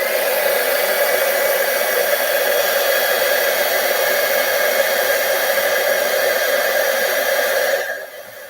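A heat tool blows hot air onto a piece of card for a papercraft project, producing a loud, steady rushing whir that runs for about eight seconds before shutting off.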